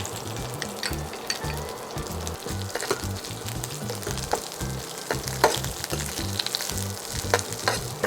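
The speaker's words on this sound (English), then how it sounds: "Now you can add the small onion into it." Small onions frying in oil in a pan for a coconut prawn curry, a continuous close sizzle with occasional crackles and some stirring, heard without talk.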